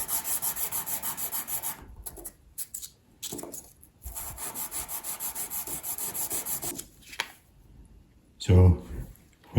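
A mini chisel held in a 3D printed honing guide is worked back and forth on a sharpening stone, a rhythmic close rasping scrape in steady strokes that pause briefly, with a voice speaking over it.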